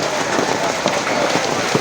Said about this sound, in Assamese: এই শিল বৰষুণ চাওক